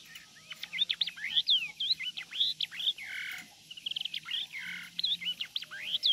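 A yellow-eyed hwamei songbird sings close by in bright, rapid bursts of whistled and chirping phrases, with short pauses between runs and a faint low hum underneath.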